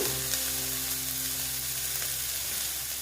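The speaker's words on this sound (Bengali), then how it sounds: "আলুটা এখানে আমি ভেজে নেব" Potatoes frying in a pan of oil for egg chops give a steady, close sizzle with faint crackles and a low hum beneath, holding even throughout with no voices.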